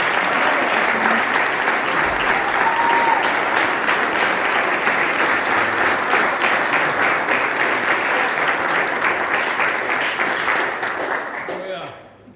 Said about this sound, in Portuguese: Vamos receber o pastor Cláudio aplaudindo bem forte.